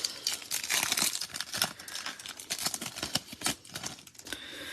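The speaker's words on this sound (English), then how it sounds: "Going straight for the scissors this time." Scissors snipping and crinkling through the foil wrapper of a hockey card pack, a dense run of close, crisp cuts and rustles lasting several seconds.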